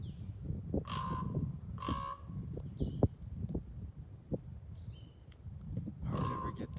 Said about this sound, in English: Hardly ever get that close to a crow.